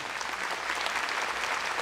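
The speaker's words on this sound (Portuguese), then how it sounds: "Vamos aplaudir o Senhor bem forte." Dense, loud clapping from a church congregation praising together, an even wash of hands with no break.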